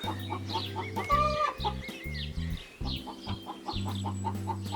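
Backyard chickens and six-week-old chicks cluck in short bursts, close by, alongside a steady low hum and some mixed background noise.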